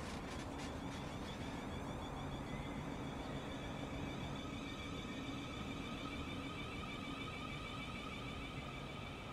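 A Class 700 electric train pulling away in Train Sim World 2022, a steady broadband rolling rumble with rising tonal whine, heard from the platform outside, continuous and fairly loud with no talking.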